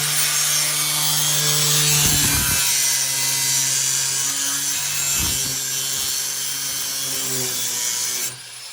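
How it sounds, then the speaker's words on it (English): A Sawzall reciprocating saw cuts close by during ladder bar correction work on a vehicle, a loud continuous buzzing rasp that briefly bogs and changes pitch twice before cutting off abruptly near the end, with no talk. "You gonna nick the corners with the sawzall?"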